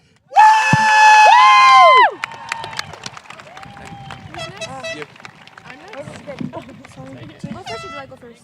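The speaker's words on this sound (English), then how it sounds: "Seniors, we know you're here, so stand up. Let's hear your cheer." Graduating seniors at the Roaring Fork High School Class of 2024 graduation let out a loud, sustained cheer lasting nearly two seconds. It gives way to scattered shouts and crowd chatter nearby.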